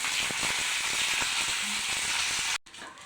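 Steady, close sizzling of seeds and leaves crackling in hot oil, continuous hiss with small pops, cutting off briefly near the end.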